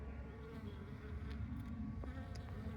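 Honey bees buzzing steadily around a beehive entrance, a dense continuous drone with a few individual bees passing close by, fairly quiet overall.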